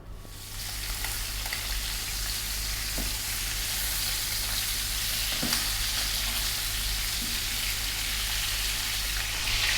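Chicken frying in olive oil over medium heat gives a constant, dense close sizzle with a few faint taps, and no voices.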